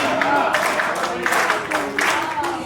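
An audience at a Hindi poetry recital claps together in a dense, steady wash of applause that runs throughout, with voices faintly audible under the clapping.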